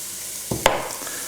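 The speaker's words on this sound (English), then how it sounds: "We just want to fry that off a little bit, get the rawness off the spices." Homemade curry paste frying in a hot pan gives a brief faint sizzle with a couple of stirring scrapes, quiet and close.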